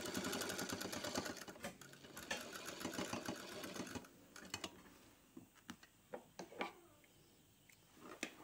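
A sewing machine stitches a seam on a pair of pants in a fast, steady run of clatter, then slows into a few short, separate bursts; quiet and close.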